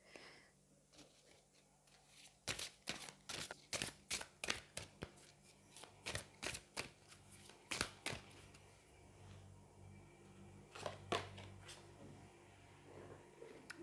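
Tarot cards from a Victoria Frances deck are shuffled and drawn, a run of quick, crisp riffling snaps and flicks up close, then softer card rustles as one is picked out.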